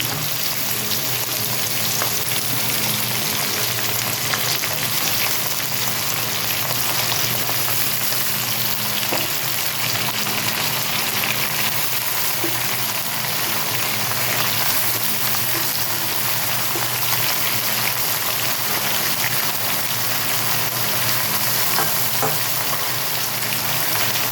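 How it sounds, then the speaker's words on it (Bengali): Cut potatoes and eggplant fry in oil in a pan for a Bengali chorchori. A dense, even sizzle hisses continuously and loudly throughout, with no voices. "এবার এর মধ্যে দিয়ে দিচ্ছি কেটে রাখা আলু আর বেগুন।"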